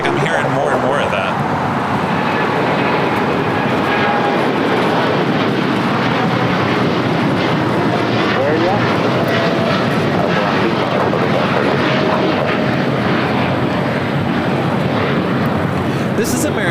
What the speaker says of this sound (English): This is American Airlines Flight 27 taking off to Tokyo, Haneda on the 787-8 Dreamliner.